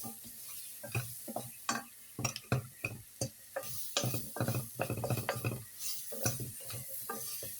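Vegetables for celery soup being stirred together in a pot with garlic, a spoon scraping and knocking against the pan in an irregular rhythm over a faint sizzle, close and clear with no talk.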